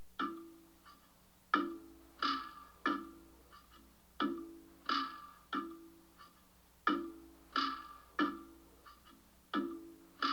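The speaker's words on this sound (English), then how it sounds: "I added this percussion loop from my sandbox kit and it sounds like this." A steady percussion loop of sharp, evenly spaced hits with quick decays, repeating in a regular rhythm with no voices.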